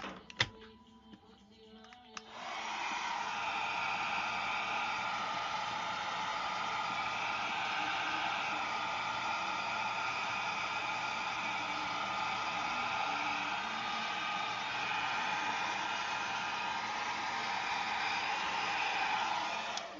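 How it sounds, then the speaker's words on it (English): Blow dryer switching on after a couple of seconds of quiet clicks, then running close by as a steady, loud whooshing hum for the rest of the clip. "that blow dryer does wonders"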